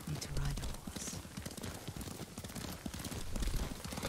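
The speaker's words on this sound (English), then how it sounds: "Lord Sakai taught me to ride a horse." A horse's hooves clip-clop at a steady walking rhythm in Ghost of Tsushima, quiet and continuous under spoken dialogue.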